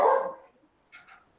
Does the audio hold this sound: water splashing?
no